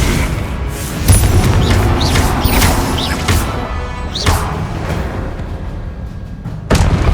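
A Confringo fire spell explodes in Hogwarts Legacy, a loud booming blast over dense, continuous game combat noise, with several sharp impacts and no talk.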